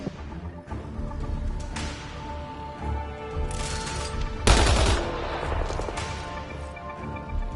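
Gunfire in the video game Mass Effect Andromeda, bursts of rapid weapon shots and heavier blasts rolling over a constant din of battle music and effects, loud and near.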